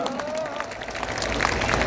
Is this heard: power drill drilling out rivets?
no